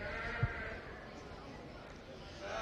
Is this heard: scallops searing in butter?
no